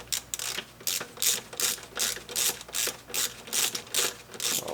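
A ratchet wrench clicks in rapid, regular bursts while backing out bolts on an N54 engine oil cooler during a retrofit, close and clear, with about ten evenly spaced ratcheting strokes and no talking.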